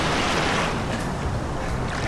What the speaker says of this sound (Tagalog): At meron ng pangalawang alon na paparating.